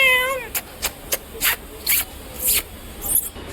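A cat gives a run of short meows, about seven separate calls spaced unevenly over a few seconds, fairly close and clear, with no talking.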